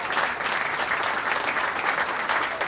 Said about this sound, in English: Keep the applause going, everyone.